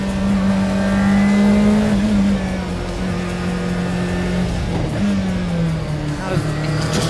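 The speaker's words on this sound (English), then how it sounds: "The supercharger brings it up, and then the turbo takes over." A Group B rally car with a supercharger and turbo accelerates hard, its engine note holding a loud, steady drone with brief dips during gear shifts, close and continuous.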